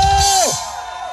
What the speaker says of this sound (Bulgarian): аплодисменти първо!